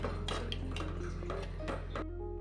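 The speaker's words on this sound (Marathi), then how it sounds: "हे छान असं मिक्स करून घ्यायचंय." Chutney stirred and mixed in a pot, with a few quick metallic scrapes and clinks of a spoon against the pot over a low steady hum, ending abruptly.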